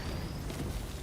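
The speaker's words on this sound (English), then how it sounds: "Oh, those are mortars." Dull, booming mortar blasts from the Helldivers 2 game rumble as a dense, continuous low roar through about a second of loud, wideband battle noise.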